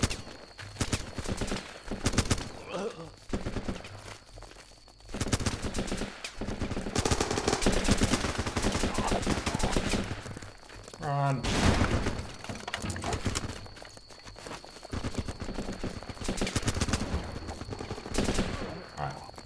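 Gunfire rattles in the video game Running with Rifles as a soldier shoots at a tree, with bursts of automatic fire and scattered shots, near and loud, amid battlefield noise and horse hooves, with a voice talking over it.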